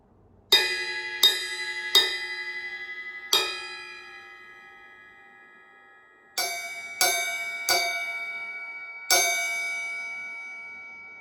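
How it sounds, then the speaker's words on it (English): Eight bright, ringing strikes on the bell of a ride cymbal, each ping sustaining and fading, played in two groups of four with a pause between. "Bell of ride."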